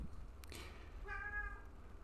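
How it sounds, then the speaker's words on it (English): A house cat indoors gives a single short meow with a clear tonal pitch, faint and somewhat distant beneath a steady low background hum, with a few small knocks and movement sounds before it. "Sorry, my cat's running around everywhere."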